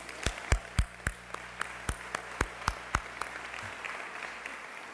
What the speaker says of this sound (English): Another round of applause for Matthew